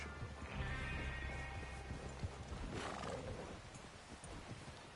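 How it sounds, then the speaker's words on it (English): A horse in Red Dead Redemption 2 gives a loud, clear neigh, followed by hoof clatter and a sharp thud against a background of outdoor ambience. "Is that horse okay?"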